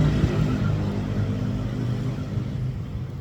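Steady roar of road traffic passing beside a highway, heard from inside a parked camper van, a continuous low rumble of engines and tyres with no clear gaps.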